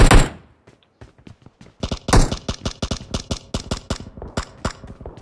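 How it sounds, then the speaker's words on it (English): Gunfire in the battle royale game PUBG, one loud shot at the start, then a rapid irregular string of sharp reports continuing to the end. "Shots west."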